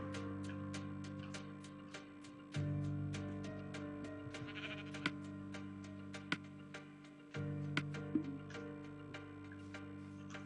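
A sheep bleats in a video game over a steady ticking, droning game soundscape, the call brief and faint amid regular clicks and a low hum that shifts in level.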